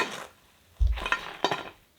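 Second batch of crispy snacks frying in oil over a low to medium flame, a soft steady sizzle with a couple of louder bursts and faint utensil stirring in a kitchen.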